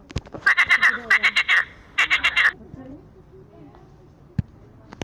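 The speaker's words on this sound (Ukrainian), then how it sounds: "Жаба" A cartoon frog croaks in a children's underwater-animals picture quiz: three quick pulsing croak bursts close together, followed by a couple of faint clicks and near silence.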